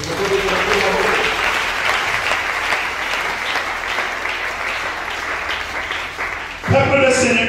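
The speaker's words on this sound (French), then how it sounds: "Est-ce que vous pouvez acclamer?" A church congregation bursts into loud, sustained applause and cheering at a French-language service, a dense wash of clapping filling the whole stretch before a voice and music briefly rise at the end.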